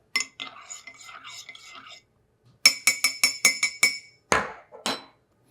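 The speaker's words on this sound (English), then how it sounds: "Give it a quick stir." A spoon clinks quickly against the inside of a coffee mug in a short burst of bright, ringing taps, then knocks twice more on the rim, close up in a quiet room.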